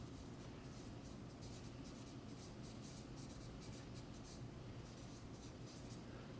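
A pen writes a label onto an anatomy diagram, giving faint repeated scratchy strokes high over a loud, steady low hum.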